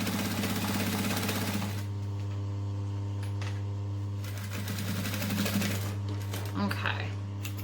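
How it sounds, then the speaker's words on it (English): A sewing machine stitches close along a fabric edge while making a Dollie by Swoon bag, running with a steady close mechanical hum and rapid needle clatter, with a brief pause and a few clicks partway through. "I'm just stitching as close to the edge as I can without running off the edge."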